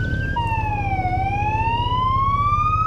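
A fire engine siren wails loudly and close, its tone sweeping down then up, over a rumbling truck engine as it passes.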